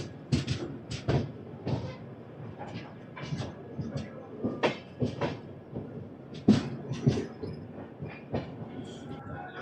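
Duronto express running after pulling out of Renigunta Junction, a steady rumble with repeated wheel clacks over rail joints, heard from inside the train with voices in the background.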